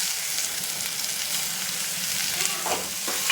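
Onion and potato fry in hot oil for spicy Maggi noodles as tomato goes in, giving a steady close sizzle with a few stirring scrapes near the end.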